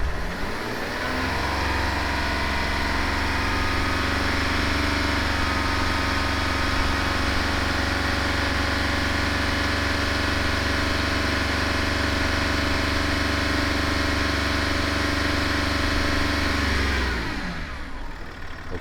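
A car engine runs close by at a held 2,500 RPM during a battery and charging test, a loud, steady drone that winds down near the end.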